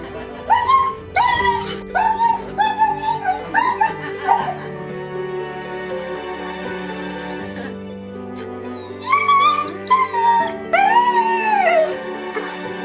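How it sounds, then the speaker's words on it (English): Dog reunited with its owner after months apart, letting out a string of high, wavering whines and howl-like yelps in bursts, close and loud over a steady tonal background. "After months apart, this dog lets out a strange, joyful sound."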